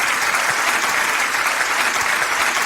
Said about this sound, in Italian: facciamo un applauso per Franco